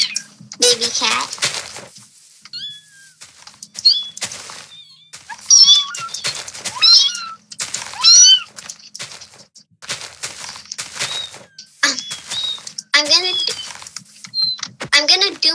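A child repeatedly mimics a kitten's meow in short high-pitched squeaky bursts, with brief pauses and some clicking in between.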